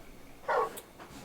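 A single short bark from Torgal, the dog companion in the video game Final Fantasy 16, rings out once at moderate volume over quiet game ambience.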